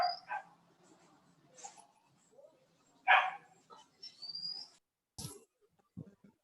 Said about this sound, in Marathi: कुत्रा कोणाकडे